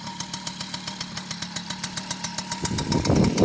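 An original, untouched MBK 51 Mag Max moped engine idles steadily nearby, a fast even two-stroke putter with regular pulses, growing slightly louder and rougher toward the end.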